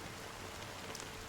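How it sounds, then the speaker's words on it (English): Steady rain falling in the Honkai: Star Rail video game, a soft, even hiss of drops spread across the whole moment with no voices over it. "Why did this rain choose me?"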